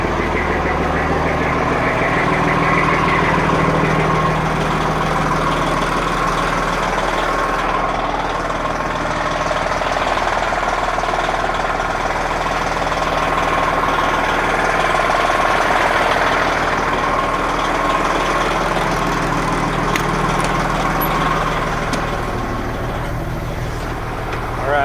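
A truck engine idles steadily from inside the cab as the vehicle is about to set off on a drive. It is a loud, continuous low drone with a slight knocking texture that holds evenly throughout, with no clear revving.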